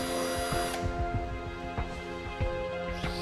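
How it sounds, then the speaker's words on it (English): A power drill whirs steadily while boring 5 mm holes at the ends of a crack in a damaged plastic car bumper, with rhythmic grinding pulses and a pitch drop as it bites. "holes measuring 5 mm in diameter are first of all drilled at each end of the crack"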